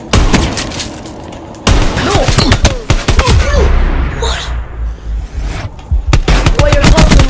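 Gunfire in Call of Duty Black Ops 4, loud bursts of rapid shots and blasts heard up close, broken by short gaps, with a player's voice talking and shouting over the game sounds.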